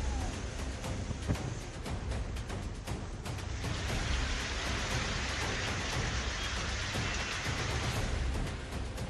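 Heavy monsoon rain pours steadily over flooded streets and markets, a dense, continuous hiss of downpour with no pause, heard at a moderate distance.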